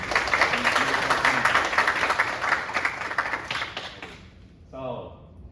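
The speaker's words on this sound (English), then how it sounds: "Let's give a round of applause for everybody." Members and newcomers at a university kendo club practice clap in a dense, close round of applause for several seconds, which fades out as a voice begins speaking.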